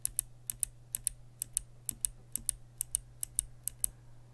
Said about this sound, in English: this is the Kale Box White with the click bar